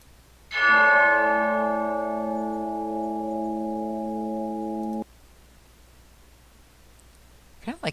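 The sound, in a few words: high-pitched bell sound effect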